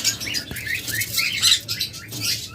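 Caged pet lutino red-head opaline birds, a pair for sale at a bird seller, chirp in quick high-pitched bursts, several overlapping tweets close by with no talk.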